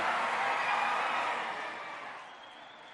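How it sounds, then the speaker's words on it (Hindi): Loud, dense applause from a large crowd at an iftar dinner held in LB Stadium, a steady wash of many hands that gradually fades toward the end. "जोरदार तालियां, जोरदार तालियां।"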